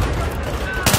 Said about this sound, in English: it was just such a good, smooth burst from the AEK